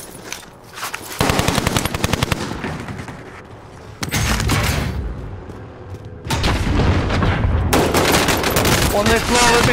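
Bursts of automatic gunfire and heavy shots from the video game Call of Duty: Modern Warfare come in loud, dense volleys separated by brief lulls, with occasional voices.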